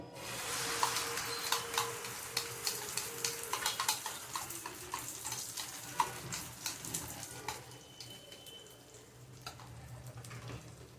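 Beaten egg mixture for a French omelette hits a hot, oiled frying pan over a medium flame and sizzles steadily. Rhythmic scraping taps from stirring run through it, then the hiss settles into a softer, continuous fry.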